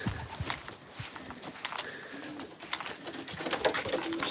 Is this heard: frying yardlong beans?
no